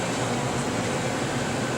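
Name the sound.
Denton DV-502A vacuum evaporator pumping down with roughing valve open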